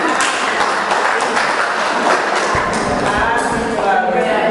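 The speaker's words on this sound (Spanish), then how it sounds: "Un aplauso para estas dos mujeres" An audience claps for two women at a Spanish-language religious talk, and the applause runs as a dense, steady wash throughout the short moment.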